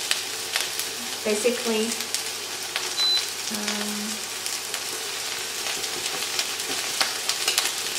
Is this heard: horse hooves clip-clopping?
no